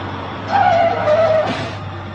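A car driven fast and recklessly gives a drawn-out tire squeal, two close skidding screeches in the middle over a steady engine hum.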